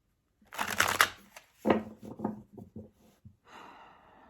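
Tarot cards riffle and snap together in a quick shuffle, followed by several soft tapping and sliding handling sounds and a brief breathy exhale.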